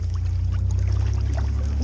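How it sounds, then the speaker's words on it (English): Water sloshing and spilling out of a pool carried in the bed of a moving pickup truck, a loud steady rush over deep engine and road rumble, with no voices. "we're losing all the water"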